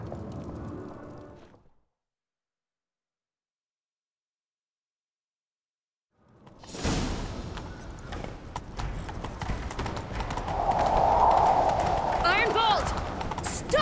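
A horse gallops in The Witcher 3 with rapid clip-clop hoofbeats and game sounds, loud and continuous after a short opening sound and a few seconds of silence.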